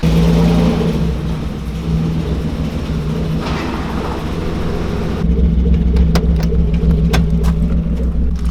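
A budget BMW six-cylinder drift car runs loud and steady, its exhaust droning low with a rumbling hum throughout, then sharper bursts and crackles break through in the final few seconds as the engine picks up.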